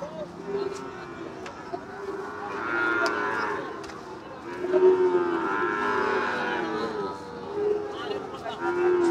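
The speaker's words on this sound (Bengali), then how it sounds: "এই যে একটা মাশাআল্লাহ খুবই সুন্দর জাতমানের গরু।" Cattle at a border-area cattle market moo repeatedly in long, drawn-out calls, some near and some farther off, while people talk in the background.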